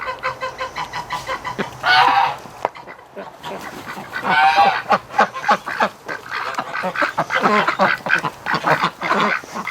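Wintering ducks and geese call in a loud, busy flock, with repeated honks and quacks bursting throughout and overlapping at close range, set against a winter outdoor backdrop.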